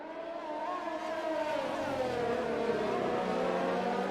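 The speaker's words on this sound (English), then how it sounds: "She really enjoys the sound of the cars." Continuous loud engine roar with rising and falling pitch, Formula One cars, including a McLaren and a Ferrari, speeding past close by, one after another at the Singapore Grand Prix.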